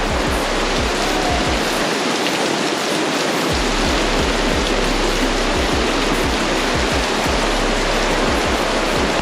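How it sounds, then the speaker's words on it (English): Dense, heavy torrential rain roars continuously during flooding near Lake Moogerah, a broad hiss of downpour with irregular low thumps, loud and close with no voices. "it's absolutely torrential rain, like everything is flooding"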